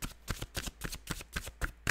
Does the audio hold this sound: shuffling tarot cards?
yes